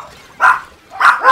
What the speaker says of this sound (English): Doggies, nope! Stop barking!